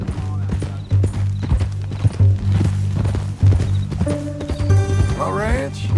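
Horse hooves clip-clop steadily at a walk in Red Dead Redemption 2 while someone speaks over them, and a horse whinnies near the end.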